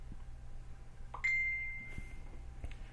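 A mobile phone notification chimes once, a short bright ding that rings out for a moment over quiet room noise.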